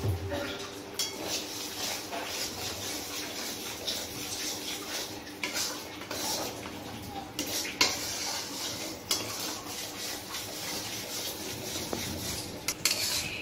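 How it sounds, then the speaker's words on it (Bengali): Spice paste of turmeric and salt being stirred and fried in a pan for Bengali steamed hilsa, with steady scraping and rubbing of a utensil against the pan over a low sizzle, continuous and close throughout. "এবার আমরা মশলাটাকে একটু ভালো করে কষিয়ে নেব।"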